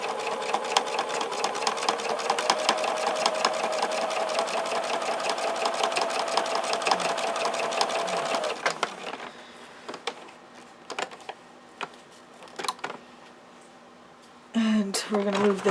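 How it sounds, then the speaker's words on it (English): A sewing machine stitches a paper-pieced quilt block along the marked line, running in a fast, steady whir for about eight seconds before stopping. Softer clicks and handling noises of fabric and paper follow. "now we're going to just go ahead and sew along the line"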